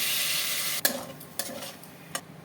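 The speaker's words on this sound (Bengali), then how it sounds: "পোস্তর সাথে ভালো করে কষিয়ে নেব" Potatoes stirred with ground poppy seed paste in a pan, giving a steady close sizzle broken by several sharp scraping stirs, with no talking.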